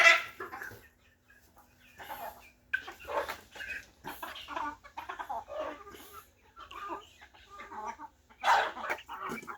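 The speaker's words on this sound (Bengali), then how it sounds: "এই দেখুন মুরগি বের হইতেছে।" Chickens released from a village coop cluck and squawk close by in scattered bursts, loud calls overlapping then pausing briefly between flurries.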